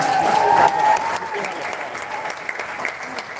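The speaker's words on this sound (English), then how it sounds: "That deserves a round of applause." Audience applause at a creators' meet-up in Ghana, a steady mass of clapping from a crowd that peaks early and then sustains at a slightly lower level, with a whistle-like tone near the start.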